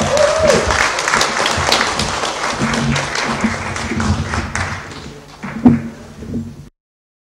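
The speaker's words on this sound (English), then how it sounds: "Give Les a round of applause." Audience applause for presenter Les at a Spiritualist church service, a broad steady clatter of clapping that holds for several seconds then thins into a few scattered claps before stopping.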